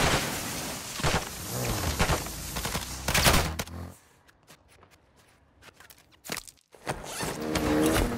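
Gunfire crackles in the Call of Duty DMZ video game, dense bursts of shots in the first half followed by a quieter stretch of sparse clicks and footsteps before the firing picks up again.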